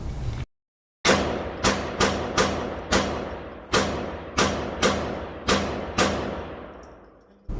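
Glock 44 .22 LR handgun firing at a range: about ten sharp shots in steady succession, each a loud crack with a short decaying tail, following a brief silence.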